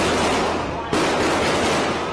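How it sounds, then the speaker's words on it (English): Gunfire is exchanged during a shooting at the Trump luxury hotel in news footage, a dense, loud burst of rapid cracks and blasts with no clear gaps, jumping sharply louder about halfway through. "Looks like an exchange of gunfire right out of a Hollywood action movie."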